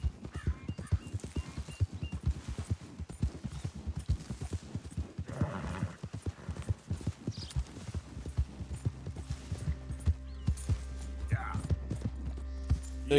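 Steady clip-clop of hooves trotting along in Red Dead Redemption 2, with a horse whinnying partway through; a low continuous hum rises toward the end.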